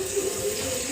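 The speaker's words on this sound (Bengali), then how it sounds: "এরপরে 1 কাপ চালে 2 কাপ মতো জল দিয়ে আমি" Water poured from a cup onto rice in a pot with cardamom and bay leaf, a short steady gush lasting about a second.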